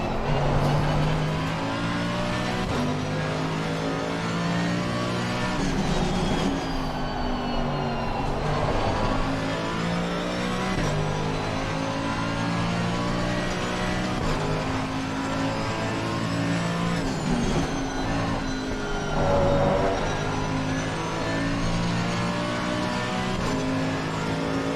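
A Mercedes-AMG GT3 race car in the racing game Assetto Corsa Competizione roars continuously, its engine note climbing and dropping through repeated gear changes as it accelerates and brakes, loud and close with no voices.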